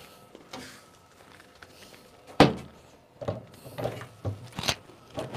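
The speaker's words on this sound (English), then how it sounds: "Now let's put the door back on." A promotional mini fridge door being refitted, giving a few sharp plastic thunks and clicks with softer mechanical knocks in between, close by and without talk.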